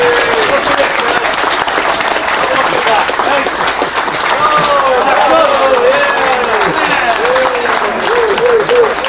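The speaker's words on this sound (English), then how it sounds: "Amidst Hugh's applause" Loud sustained applause from a cruise ship audience at a cooking demonstration, dense continuous clapping with voices and cheers mixed in throughout.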